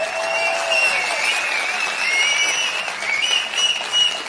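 A crowd at a Naam Tamilar Katchi public rally for Seeman claps loudly, with shrill whistles rising above the dense applause throughout.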